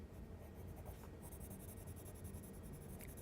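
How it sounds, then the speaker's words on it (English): A colored pencil scratches across paper in close, soft, continuous strokes, a quiet dry rasp with a few brief pauses between passes. "Use the colored pencil too to shade and define."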